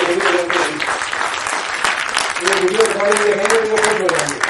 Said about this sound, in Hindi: तो मैं चाहता हूं कि इनके योगदान के लिए एक बार आप ताली बजाएं।